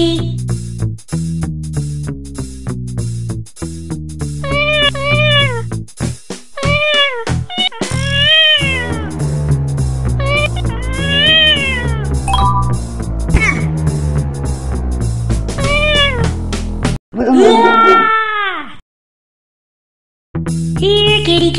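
Repeated cartoon cat meows in the 1999 Macintosh game Cat Burglar, several bright wavering cries over looping synthesized music, loud and close, followed by a longer caterwaul near the end.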